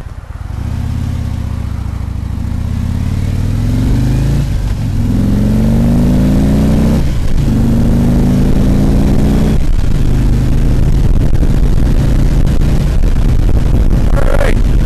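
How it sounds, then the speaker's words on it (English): Cars pass along a road one after another, each rising and falling engine and tyre whoosh standing out over a loud, steady rumble of traffic and wind noise. "We got cars coming."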